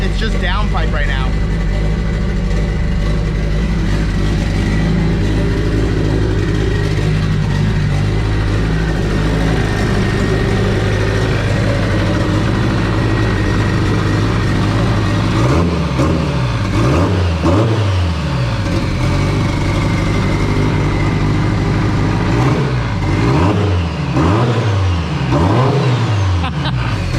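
A car engine with only a downpipe exhaust runs loud and close, idling roughly before a series of sharp revs rise and fall toward the end, while people talk over it.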